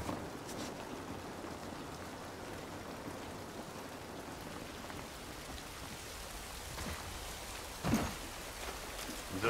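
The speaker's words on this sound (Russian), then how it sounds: "Дождь, конечно, не радует." Steady rain falling in the video game The Last of Us, an even patter of drops on surfaces with a few louder splashes and thumps, no talking.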